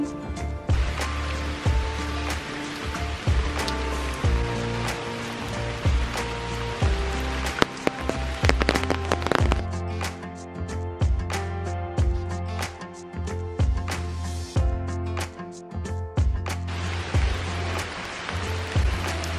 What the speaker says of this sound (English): Cold, chilly, outside in the rain.